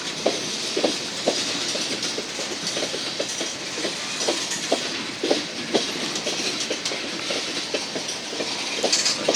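A smoking GE diesel locomotive lugs a heavy freight train uphill out of Glendive, Montana, past grain hoppers and an air slide car, with a loud steady rumble and hiss and regular clickety-clack of wheels over rail joints.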